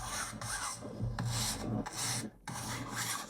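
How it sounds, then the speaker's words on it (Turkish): A paintbrush is dragged across canvas in a few long, raspy scraping strokes, each a second or so, recorded up close with a short gap between the last two and no voices. "Mesela bir fırça darbesi."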